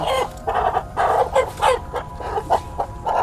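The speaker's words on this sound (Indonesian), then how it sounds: "Ayam cemani ya." An Ayam Cemani, a jet-black chicken breed, clucks in a close, loud series of short repeated calls with brief gaps, heard alone without talk.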